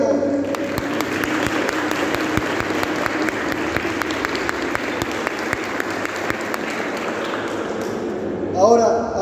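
Sustained applause from a crowd, dense steady clapping throughout, with a brief voice rising near the end.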